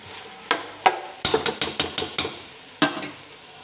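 Rice being stir-fried and toasted with vegetables and salt in a pot for chicken and vegetable kofta pulao, heard as a series of sharp scraping and clattering stirs in quick succession at close range, with no talk.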